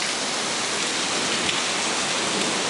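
Steady rain pours outside, a dense, even hiss of drops on surfaces, fairly loud and close, with no voices over it.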